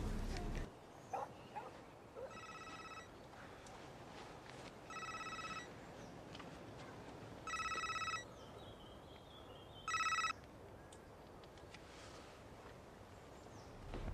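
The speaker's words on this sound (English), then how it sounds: "Who are you ringing, Andy?" An outgoing call rings through a telephone earpiece in a hospital scene, four evenly spaced electronic ring tones over a quiet background, with no speech.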